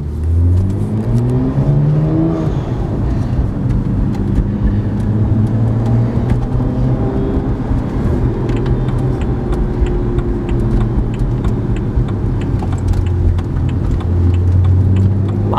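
A 2011 BMW 1M with a six-speed manual accelerating on the road, its engine note climbing through the revs in long pulls, loud and close, with no talk over it.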